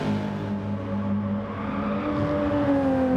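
Race car engine howling in a racing video game during a race at Laguna Seca, a steady high-pitched roar with rising revs toward the end, loud and continuous with no talk.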